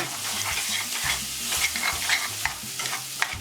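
Jimmy Dean sausage browns in a pot, a close, steady crackling sizzle with occasional scraping stir strokes and no voices.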